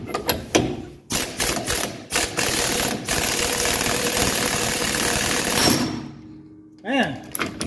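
Ratchet wrench clicking hard while breaking loose a suspension bolt on a 1985 Mercedes 300SD, bursts of loud close ratcheting with brief pauses, then a longer sustained run before it stops.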